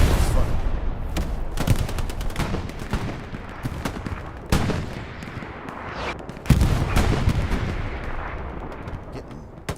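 Gunfire and heavy booms from the World War II shooter Hell Let Loose, repeated loud close shots and distant artillery thuds over a rumbling battlefield bed, with a few strong blasts standing out.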